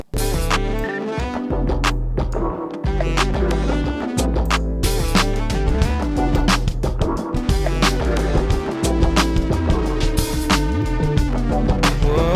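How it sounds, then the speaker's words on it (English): A saxophone-like melody layered with synth tones plays steadily, bright and full, with sharp rhythmic accents throughout. "I also layered it with a synth, so together they sound like this."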